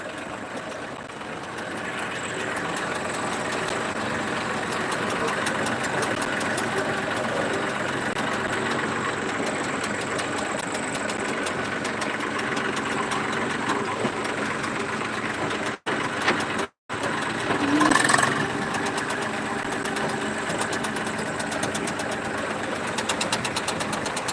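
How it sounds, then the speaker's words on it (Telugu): A tractor engine runs steadily with a knocking idle-like drone while hauling tomatoes out of a farm field, loud and continuous with a brief dropout near the end. "మేమైతే ట్రాక్టర్తో అయితే ట్రాక్టర్తో అయితే మాకు టమాటాలు అయితే బయటకు తీసుకెళ్తున్నాం"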